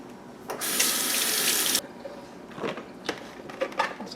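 Kitchen tap runs for about a second as cherry tomatoes are rinsed, a bright close water rush that cuts off sharply, followed by small splashes and handling sounds.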